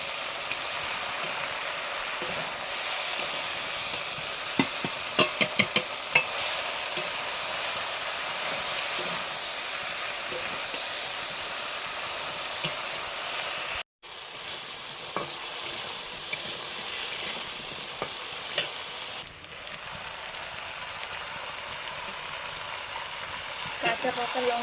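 Fried fish heads and their oil tipped into a hot pan for a spicy silver fish and taro curry, giving a steady, close hiss of frying oil with scattered clicks and scrapes of stirring throughout, no voices.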